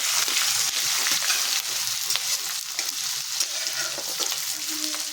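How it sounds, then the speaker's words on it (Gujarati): Ginger paste and green chillies sizzle and spatter in hot oil while being stirred, a steady close crackling hiss with occasional scraping. "એ બંને આપણે અહીંયા તેલમાં એડ કરી દઈશું બધું જ આપણે સારી રીતે સાતરી લઈશું"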